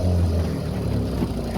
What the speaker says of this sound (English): She wants to run on choke for some reason